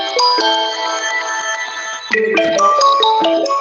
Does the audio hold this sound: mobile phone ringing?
yes